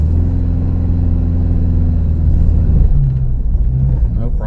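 A 2025 Toyota 4Runner TRD Pro engine labors through soft beach sand on Padre Island, a loud steady low rumble with a droning hum and slight rise in pitch, a voice talking over it.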